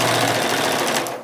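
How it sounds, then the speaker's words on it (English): A sewing machine stitches a quarter-inch seam along a quilt binding strip. It gives a loud, steady, rapid whirring run for about a second, then trails off, with no talk. "I'm just going to sew a 1/4 inch strip right here down the"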